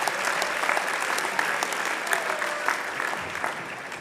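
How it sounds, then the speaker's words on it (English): Applause for graduates of a creative book publishing program at a fall convocation ceremony, steady moderate clapping from a seated crowd in a hall, with a faint murmur beneath it. "a round of applause for the graduates from the Creative Book Publishing Program"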